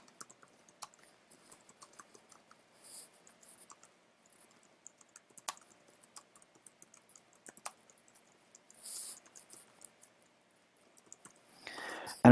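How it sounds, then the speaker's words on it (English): Sparse, quiet keyboard typing in an indoor room, scattered soft clicks and taps with pauses between short bursts, close to the microphone. "So I'm going to type something here"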